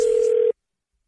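Steady telephone dial tone on a radio prank phone call, a single continuous tone lasting about half a second before cutting off abruptly into silence.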